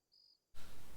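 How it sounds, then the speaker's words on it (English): Crickets chirp in a single short, faint, rapid pulsing trill against quiet night air, followed abruptly by a loud broadband burst of noise. "The crickets"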